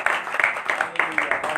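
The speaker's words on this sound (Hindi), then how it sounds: "यीशु के जलाल के लिए जोरदार तालियां।" A church congregation at an all-night prayer meeting claps in a steady rhythmic beat, with crowd voices mixed in underneath.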